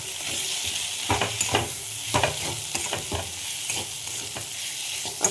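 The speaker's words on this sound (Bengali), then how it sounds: "এইগুলো একটু সটে করে নেব" Potatoes with crushed black pepper sauté in a pan, sizzling steadily while a spoon stirs and scrapes in repeated close clatters, with no talking.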